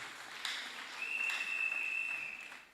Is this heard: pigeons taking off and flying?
no